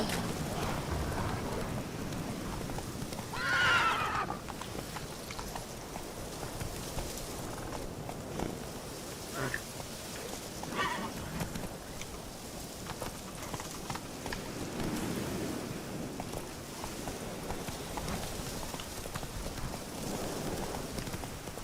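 Roach the horse in the video game The Witcher III, hooves clip-clopping at a steady pace through the whole stretch, with rain hissing and a low rumble of thunder in the background.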